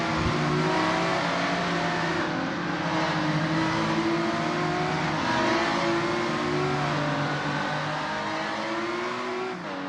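Lotus 2 Eleven race cars howl around the Spa Francorchamps circuit in Assetto Corsa, with several engines droning and revving together in a loud, continuous roar whose pitch rises and falls slightly.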